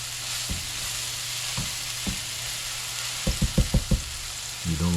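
Garlic sizzles in oil in a hot pan, a steady fry with a few scattered clacks and a quick burst of stirring taps near the end; no one speaks.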